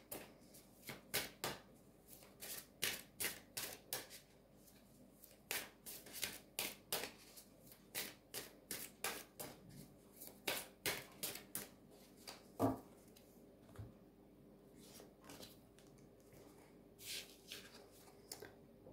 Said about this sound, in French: on va prendre une carte de The Elemental.